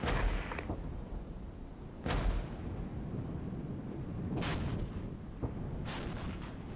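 Repeated booming artillery shots from an M109 howitzer in the war game Regiments, several heavy blasts spaced a second or two apart over a steady rumbling battlefield background, with no talking.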